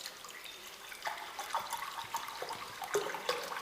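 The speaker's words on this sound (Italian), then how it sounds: "Quindi mettiamo l'acqua" Water poured into a pot with fennel seeds and bay leaves for a herbal digestive tea, a faint, steady splashing trickle broken by small irregular drips, with no talk.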